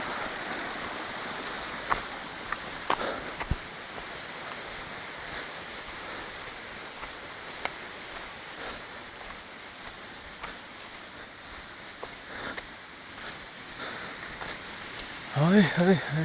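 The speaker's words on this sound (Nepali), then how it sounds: "यो पानी बगिरहेको छ" Water runs steadily through a rain-soaked forest stream, a broad continuous rush with faint wind, occasional knocks, and a voice briefly audible near the end.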